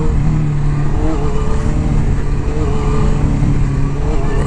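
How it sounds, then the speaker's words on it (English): A car accelerates on a Los Angeles freeway to warm its tires, with a loud, steady engine drone and road roar filling the cabin without pause. "Gotta warm up the tires here."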